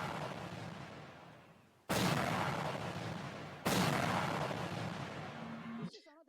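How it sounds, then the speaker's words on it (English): Seismic air guns used to survey the seabed for gas and oil fire underwater blasts: three deep, booming explosions spaced about two seconds apart, each striking suddenly and rumbling away slowly, with no other sound between them. "These are systems through air guns, through which the bottom of the sea is explored to find gas and oil."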